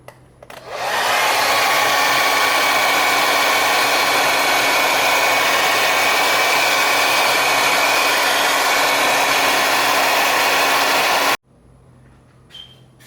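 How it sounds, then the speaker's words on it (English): A hair dryer heating shrink tubing roars loudly and steadily for about ten seconds, then cuts off abruptly, leaving quiet room noise. "I just didn't want to keep the hair dryer on there too long"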